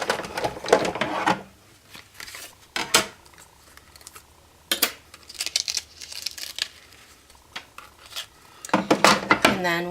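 Octagon die run through a manual die-cutting machine, giving irregular clunks, crinkles and scraping bursts at close range, with short pauses between them and a louder clatter at the end.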